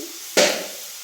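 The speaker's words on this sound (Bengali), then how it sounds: "এবার কাঁচা লঙ্কাগুলো দিয়ে দিচ্ছি।" Green chilies dropped into a pot of boiling water, giving a sudden close splash and hiss that fades off over half a second.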